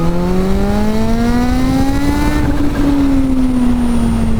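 A Kawasaki Z H2 motorcycle accelerates hard in third gear. The engine note climbs steadily in pitch, then eases slightly and holds, loud and close, with no voices.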